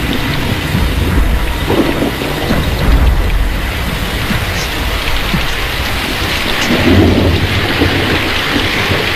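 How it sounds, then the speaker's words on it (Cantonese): Heavy rain pours down in a dense, steady roar, with deep rumbles of thunder rolling underneath. "咁大雨，我哋避下先啦。"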